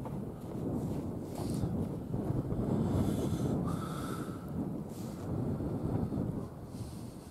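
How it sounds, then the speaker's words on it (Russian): Strong wind in the taiga gusting across the microphone, a steady rough roar that swells and eases, moderately loud and close with no other clear sounds. "Ветрище."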